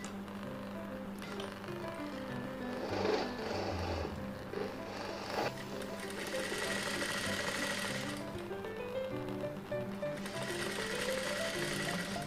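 A sewing machine runs steadily through a long basting stitch on a blouse, its even mechanical whir continuing almost without pause for the whole stretch, close and alone with no voices.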